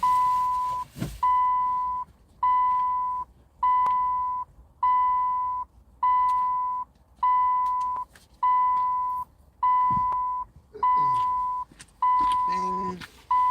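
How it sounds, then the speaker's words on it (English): Regular electronic beeping: twelve identical steady tones, each lasting about a second, repeat at an even pace with short gaps between, loud and clear, with a few faint scraping noises in the background. "Beeping."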